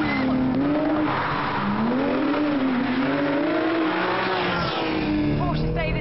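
A Porsche 911 GT3 with 415 bhp accelerates hard through third and fourth gear, a loud, continuous high engine howl climbing in pitch with brief gearshift dips, and a person talks over it.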